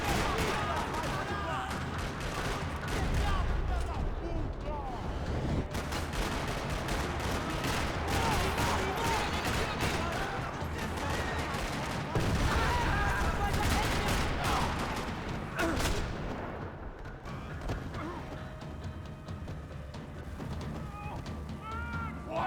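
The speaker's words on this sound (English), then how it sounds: "Another parking lot rattling with gunfire." Sustained gunfire in a parking lot from Max Payne 3, dense bursts and shots crackling nonstop at close range with little pause, loud throughout and mixed with other game noise.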